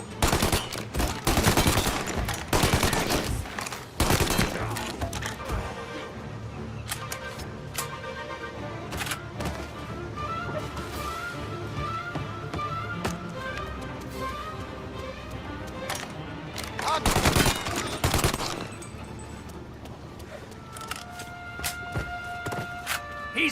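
Gunfire in the 1930s gangster game Mafia, with heavy clusters of shots at the start and again midway, plus scattered single reports in between over a steady bed of background noise and music.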